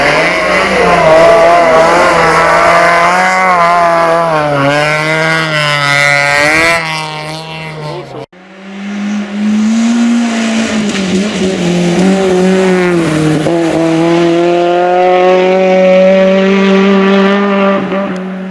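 A rally car at full throttle on the Ronde du Jura rally roars loudly and close, its engine note climbing through the gears in two long sustained pulls separated by a brief cut.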